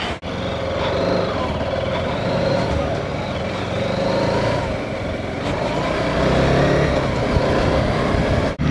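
A TVS Apache RTX 300 adventure motorcycle rides along a road, its engine a continuous droning rumble mixed with wind rush, holding fairly loud and even throughout.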